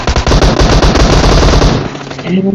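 Automatic gunfire in PUBG Mobile rattles out in a rapid burst of shots for about two seconds, loud and close, then cuts off to a quiet tail.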